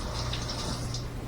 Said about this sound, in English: Rinse our mitts again.